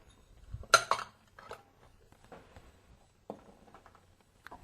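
A spoon tosses lemon basil potato salad with onions and smoked, crumbled country bacon in a bowl, making a few soft, sparse clinks and scrapes, close and quiet.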